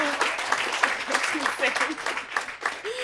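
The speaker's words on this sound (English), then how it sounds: "Round of applause for Elizabeth, everybody." An audience at a TEDx event applauds in scattered, uneven claps, with voices and cheers audible among them.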